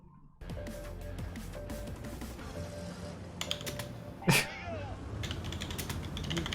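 Typing on a SteelSeries Apex M700 clicky mechanical keyboard, a steady run of close, crisp key clicks with a louder clack partway through, under faint background voices.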